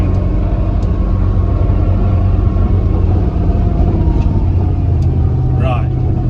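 Loud, constant low engine rumble and road roar fill the cabin of a V8-swapped Volvo while it is being driven, with faint clicks over the steady noise.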